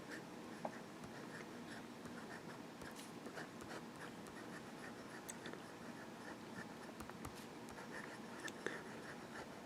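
A fountain pen with a 14K medium nib scratches steadily across paper, a soft continuous scribble with faint ticks, close and quiet in a still room.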